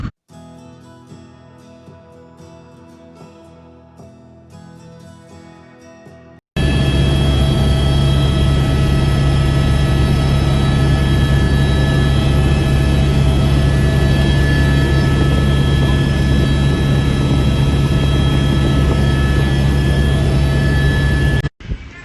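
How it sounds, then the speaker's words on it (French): After a quieter opening, a helicopter's loud, sustained engine roar with a high whine kicks in as it takes off in Tahiti and holds steady until it cuts off at the end. "Hélicoptère de nos amis Air Tahiti Nui. On va s'envoler tout là-haut."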